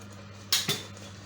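A spoon knocks twice in quick succession against a pot as flour is mixed into sarson ka saag, two short, close metallic clinks over a quiet background.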